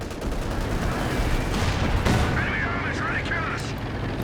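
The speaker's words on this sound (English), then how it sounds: "Artillery in the center." Artillery barrages in Company of Heroes 2 during a 2v2 match, a dense rumbling wash of distant explosions and gunfire with one sharper blast midway, while a caster talks over the battle.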